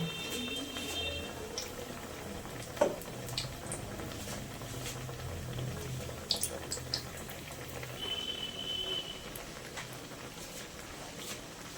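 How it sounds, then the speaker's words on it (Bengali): Fish fry browning in hot oil, a soft continuous sizzle close by with scattered pops and spits and a few sharper clicks, fairly quiet throughout. "লাল লাল করে ভেজে নেব"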